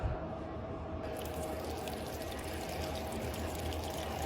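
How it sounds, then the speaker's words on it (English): Water pours steadily into a tall, narrow tube or cup, a continuous close-up rushing stream that grows slightly fuller as it fills, with no talk over it. "Okay, here's the top of my tube. I'm going to start filling it up."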